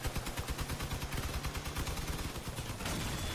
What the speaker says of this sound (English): Oh, I'm taking fire from Jacob.